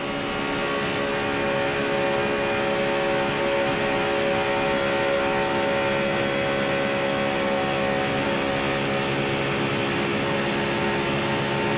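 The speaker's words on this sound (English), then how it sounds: "You'll hear the engines." Race car engines at the 2010 Daytona 500, a loud, continuous high-pitched roar heard from on board that holds nearly constant, with only slight swells as the throttle eases and comes back on.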